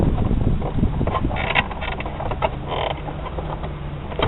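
Plastic creaking and scraping as the instrument cluster of a 2008 Chevy Impala is tilted up and pulled free from the dash, close and fairly loud with short rubbing squeaks and clicks.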